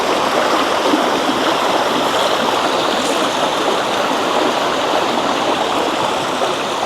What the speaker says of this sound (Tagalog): Pero sobrang ganda ng batis oh.